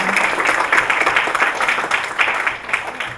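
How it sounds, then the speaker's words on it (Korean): Audience clapping in a hall after a student presentation at a Korean student gathering, a dense patter of hands at steady volume lasting a few seconds. "잘 발표해주신 우리 유경선에게 다시 한번 큰 박수 부탁드립니다"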